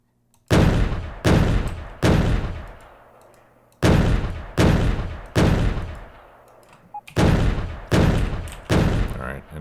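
Artillery shells from a Factorio targeting remote fire in heavy booming volleys, three clusters of three to four loud blasts each with long rumbling decays, alone with no talk.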